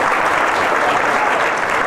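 Cruise audience at a comedy roast clapping to vote for an answer, a dense, even burst of applause from a large crowd, loud and close, with no speech over it.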